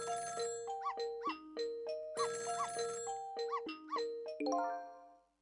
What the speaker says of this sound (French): C'était le bruit d'un téléphone qui sonnait.